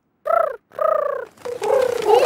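Voice imitating a pigeon in a cartoon: a few warbling, cooing calls in bursts, close and clear, with no speech.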